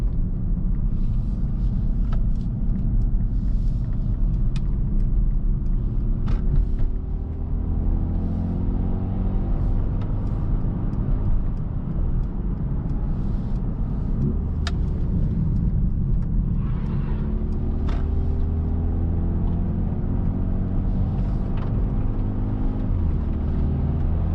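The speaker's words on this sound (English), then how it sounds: "now also when you shift you get like a boom with each shift" A 2025 Mercedes-AMG A35 engine rumbles steadily from inside the cabin, its pitch rising as it accelerates and then dropping with a boom at each gear change, repeating several times.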